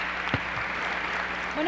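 An audience applauds the Mexican ambassadors on a Senate panel, a brief, steady patter of clapping that stays level throughout, with a voice cutting in near the end.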